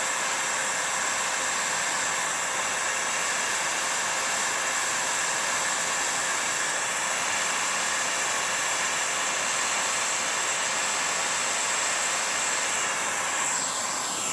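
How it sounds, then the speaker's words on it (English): Steady, loud broadband rush of hot air blown from a heat gun with a constant hum, continuous and unchanging throughout, no voices. "Don't put your fingers anywhere near the tip of that heat gun because it is pretty much fire"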